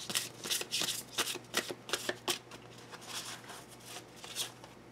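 Tarot cards shuffled by hand in a quick run of crisp riffling bursts, then softer, looser card shuffling toward the end, close and alone with no talk.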